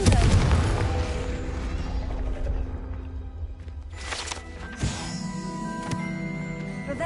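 A Confringo blasting-curse explosion from the Hogwarts Legacy video game: a heavy booming burst at the start, then fading rumble with later smaller bangs and chimes over ambient game sound.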